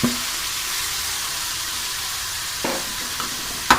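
Chicken for karahi, about 1.5 kg, frying in masala over a low flame: an even, soft sizzle runs throughout, broken by a few quick stirring scrapes near the end.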